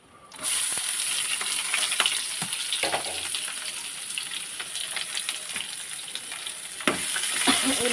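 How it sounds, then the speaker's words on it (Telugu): Chopped onion fries in hot oil in a pan with mustard seeds, cumin, small dried chillies and curry leaves, giving a steady close sizzle with a few sharp stirring scrapes. "ఉల్లిపాయ బాగా వేగిద్దామండి"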